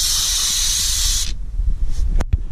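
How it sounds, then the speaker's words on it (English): A steady, loud hiss of throttle body air intake cleaner sprayed from an aerosol can onto a truck's throttle body, lasting about a second and a half before cutting off, followed by quieter handling noises and a couple of sharp clicks. "we got our throttle body air intake cleaner all ready to go"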